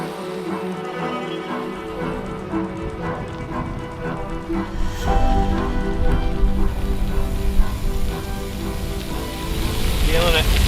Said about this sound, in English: We got drizzle.